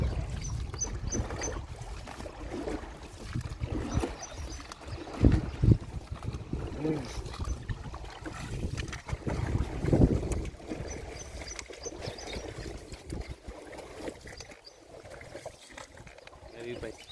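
Water sloshes and laps around a small round coracle boat as it moves along, with wind noise and a voice talking over it.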